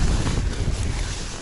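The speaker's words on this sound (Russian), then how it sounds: "Ветер порывистый, и что-то верховой пошел очень сильно." Strong gusty wind on open ice buffets the microphone with a loud, low rumbling roar throughout.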